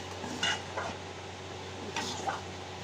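A spoon scrapes and stirs semolina in a pan while a sweet cooks, making a few faint, separate clinks and scrapes over a quiet, steady background.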